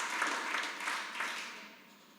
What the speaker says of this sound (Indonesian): Kasih tepuk tangan bagi Tuhan Yesus.